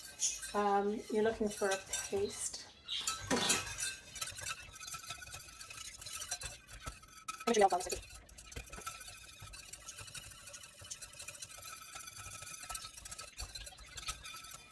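A fork whisks a milk mixture into a paste for golden buns, clinking and scraping against the pot in quick bursts early on and again midway, with quieter stirring and faint kitchen noise between.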